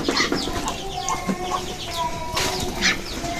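White ducks in a small backyard flock calling excitedly while eating feed, a busy overlapping chorus of close, loud quacks and clucks with some wing flapping.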